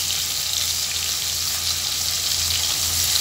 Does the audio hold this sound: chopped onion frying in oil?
yes